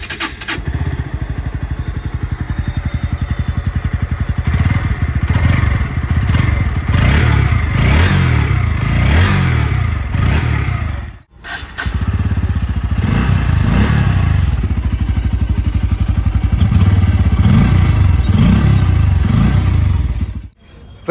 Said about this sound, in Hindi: और अब मैं आपको सुना देता हूँ दोनों बाइक्स का एग्जॉस्ट नोट